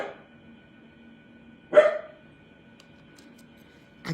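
Two separate dog barks indoors, one near the middle and one at the very end, with quiet room tone between them and no talking.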